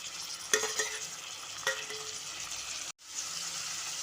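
Sliced tomato and onion frying in oil in a pan for palak pudina rice, with a steady sizzle, a few sharp stirring clacks and a brief drop-out near the end.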